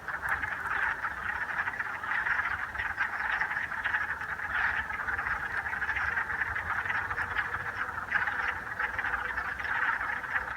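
A dense chorus of male frogs calling together at a vernal pool, a steady unbroken wall of overlapping trills and croaks held at even loudness throughout, with no voices.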